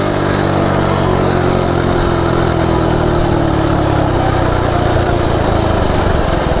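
A Coleman CT100U minibike engine with its governor removed runs loud and close in a steady, buzzing drone at high revs, unbroken for the whole stretch with no voices.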